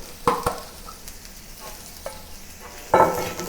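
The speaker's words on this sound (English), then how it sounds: "stir fry until the green peppers start to become slightly soft, but still retain some crispiness" Green peppers stir-fry with garlic, ginger and dry chili. A soft sizzle runs underneath, broken by a few sharp spatula clacks and scrapes at irregular intervals.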